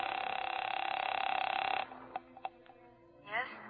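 A telephone is dialed in a radio drama, set in a hotel room: a steady tone gives way to a few sharp clicks and a brief whirring burst, heard alone without talk.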